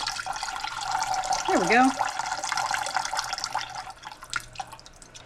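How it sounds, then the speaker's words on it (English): Vegetable juice is poured from a can of veggies into a cooking pot, a steady liquid splash and trickle that fades toward the end, while a person speaks briefly. "I'm actually going to put the juice for the veggies in the pot as well"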